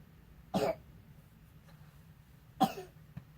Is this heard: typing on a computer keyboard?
no